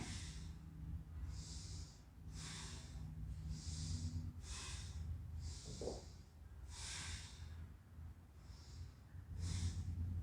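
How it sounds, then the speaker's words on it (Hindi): Slow, deep yoga breaths cycle in and out through the nose, about nine airy, hissing pulses at an even pace, close and fairly quiet against a low background hum. "अब 2-3 बार लंबी गहरी सांस भरें"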